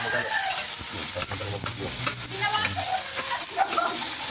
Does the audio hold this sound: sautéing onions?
yes